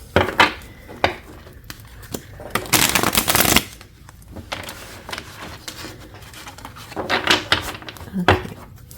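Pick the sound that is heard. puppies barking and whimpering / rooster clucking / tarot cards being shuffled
tarot cards being shuffled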